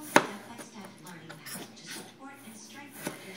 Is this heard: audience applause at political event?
no